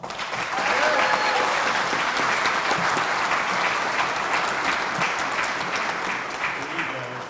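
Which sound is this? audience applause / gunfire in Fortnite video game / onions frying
audience applause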